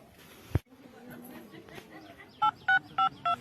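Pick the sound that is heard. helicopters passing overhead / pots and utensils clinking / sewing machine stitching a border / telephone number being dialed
telephone number being dialed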